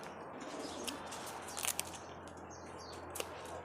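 Rampuri pigeons kept by a breeder in Ras Al Khaimah, UAE, with soft cooing and bird calls over a steady low hum, a few brief sharper chirps or wing flutters standing out, fairly faint overall.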